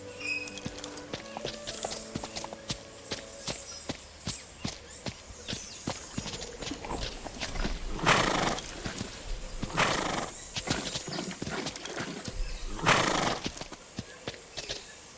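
Horses on a farm walk with steady clip-clop hoofbeats and neigh and whinny loudly several times, close by, at feeding time for hay and water.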